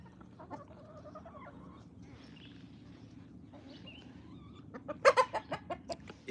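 A fighting rooster on a farm letting out a loud, close burst of rapid clucks near the end, preceded by quieter background chirps and rustling.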